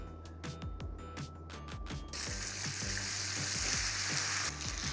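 Rhythmic clicking at first, then a loud, steady sizzle of dumplings pan-frying in a hot pan after the steaming water has evaporated, continuing without pause.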